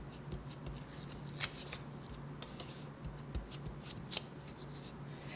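Scissors snip and trim a sticker in short, close, crisp cuts with light paper rustling, and no talking.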